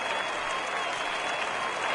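A home crowd cheers and applauds in the baseball video game MLB The Show 19, a dense, steady wash of clapping and crowd noise throughout.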